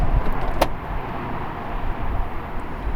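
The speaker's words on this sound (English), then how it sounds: "Now this is how you open the car door, like this." The door of a Czinger 21C, a carbon-fiber supercar with 3D-printed parts, is opened by hand. A single sharp latch click sounds against a low, steady background rumble.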